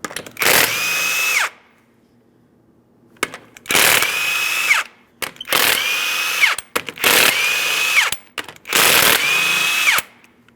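Power tool zipping off the 21mm lug nuts on a 2005-2010 Chrysler 300 driver's side rear wheel, five loud close bursts of whirring drill-like spin, each about a second long, separated by short pauses.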